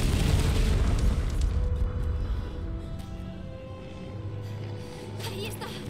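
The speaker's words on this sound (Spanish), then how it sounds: "esta es la gran explosión, ¿no?" A big explosion in the Tomb Raider video game, a deep rumbling boom that fills the low end and slowly fades into a long roar, with faint debris crackle near the end.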